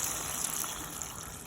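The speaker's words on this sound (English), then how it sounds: "So I'm gonna put in my water." Water pours steadily into a cooking pot, a soft continuous gushing hiss at moderate distance with no talking over it.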